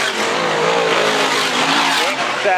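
Stock cars race around the Arlington Stadium track, a dense sustained roar of engines with tire noise throughout, loud and continuous, with a voice talking faintly underneath.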